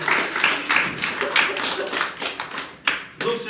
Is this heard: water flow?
no